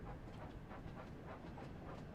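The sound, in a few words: train in the video game Wonders of Sodor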